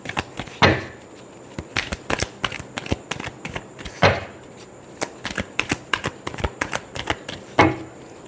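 Tarot cards are shuffled by hand in quick, crisp bursts of riffling and tapping, with a few louder snaps standing out, close and clear with no talking.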